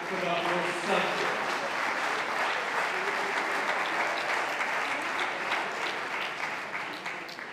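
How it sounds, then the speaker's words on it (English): Audience applause in a concert hall, with a dense, sustained wash of clapping from many hands that holds steady for several seconds and begins to taper at the end. "let's have a round of applause here for Dr. Moses Telford"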